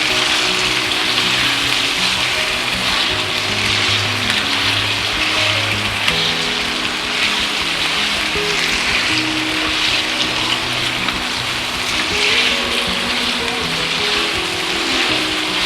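Mutton fries with ginger and garlic in a pot for achar gosht, giving a continuous dense, loud hissing sizzle that holds steady throughout with no speech.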